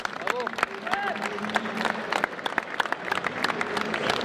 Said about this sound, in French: On va applaudir encore, hein, tu vois.